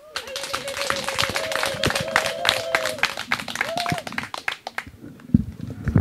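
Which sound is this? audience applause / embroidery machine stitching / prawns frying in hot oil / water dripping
audience applause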